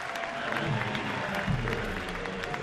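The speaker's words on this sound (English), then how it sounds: "It's not often you get a round of applause from the fans as you're running off the field after being forced out" Baseball fans at a spring training game between Atlanta and the New York Yankees applaud as a forced-out runner jogs off the field, a steady wash of clapping from the stands.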